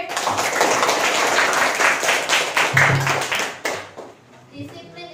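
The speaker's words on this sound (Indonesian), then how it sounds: "Ayo tepuk tangan untuk Dede" Classroom applause from a group of seventh-grade students clapping for a classmate who came to the front, steady dense clapping for several seconds that thins out near the end, with some voices mixed in.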